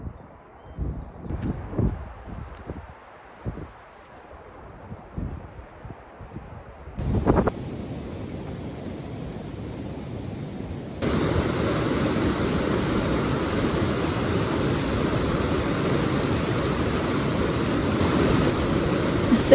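A river runs past in a steady rushing flow, quiet and intermittent at first, then filling in as a constant wash that grows louder partway through, with some wind buffeting the microphone.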